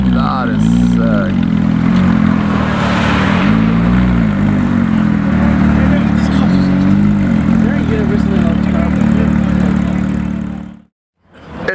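A Renault Clio V6 running loud and close, a steady engine and exhaust drone with slight revving swells before it cuts off abruptly near the end, with people talking over it.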